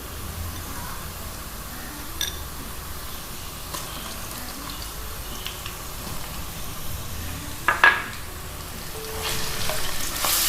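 Ginger garlic paste and liver sizzling in a pan for masala kaleji, a steady low frying hiss throughout with a brief clatter of stirring near the end and a louder burst of sizzle in the final seconds.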